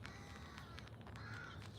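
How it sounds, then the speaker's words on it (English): Crows cawing outdoors as a storm approaches, several faint, distant caws scattered over a steady background of wind. "You can even hear the crows."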